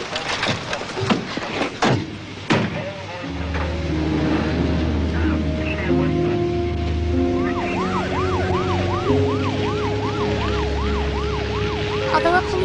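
Ambulance siren wailing steadily after a few sharp knocks, a sustained rising and falling tone over a vehicle rumble that continues loud and close to the end.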